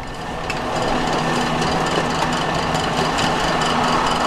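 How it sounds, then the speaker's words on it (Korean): A powerful military aircraft engine that burns about 100 litres of fuel a minute runs in a loud, steady, dense roar with a faint rhythmic ticking running through it, heard alone with no voices. "분당 약 100리터의 연료를 소모함으로써 강력한 추진력을 발생시키는 엔진"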